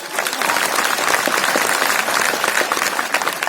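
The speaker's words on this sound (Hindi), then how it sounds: "अपने लिए नहीं, उनके लिए ताली बजा दीजिए।" Seminar audience claps together in dense, continuous applause, loud and close throughout with no pauses, a thick wash of many hands.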